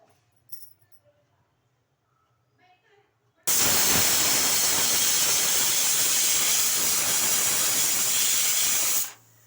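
A pressure cooker cooking obbattu saru vents steam in one loud, continuous hiss that runs for several seconds and then stops abruptly, after a quieter stretch of kitchen sounds.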